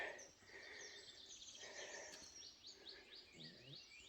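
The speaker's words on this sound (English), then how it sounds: "Bird song's nice this morning." Birds sing on a morning stretch of the West Highland Way, with several chirping and trilling calls overlapping. The birdsong is faint and distant against a quiet outdoor background, with no talking.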